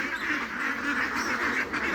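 A flock of three-month-old ducks quacking close by, a dense, continuous chatter of overlapping calls with no pauses.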